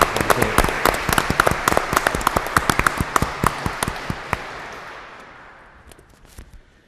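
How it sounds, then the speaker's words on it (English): Audience applause at a university public forum on the sanctity of life: dense, loud clapping from a crowd that keeps up steadily, then thins out and fades over the last couple of seconds. "I want all of us to give these wonderful encouragers and friends a round of applause and thanks."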